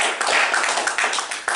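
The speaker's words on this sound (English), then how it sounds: "Give him a round of applause." Short burst of audience clapping welcoming a lecturer at a chess club lecture, dense and fairly close, lasting under two seconds.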